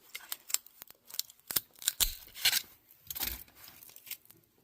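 Knife cutting into water-damaged tefillin, with a string of short, crisp slicing and scraping strokes in an irregular rhythm, close up and moderately quiet, with no talk.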